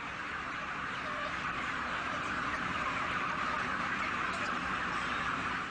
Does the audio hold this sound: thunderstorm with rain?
no